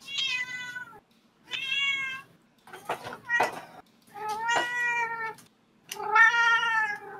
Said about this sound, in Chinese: 要不要让你们家的猫再叫一下？